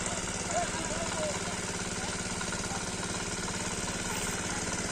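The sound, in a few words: engine-driven pump machine draining a pond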